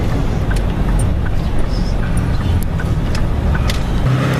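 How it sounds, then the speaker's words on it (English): A truck delivers a shipping container onto a rural property, its engine a steady, loud low rumble throughout with faint higher clatter and squeaks over the top, no voices. "First storage container arriving on the property."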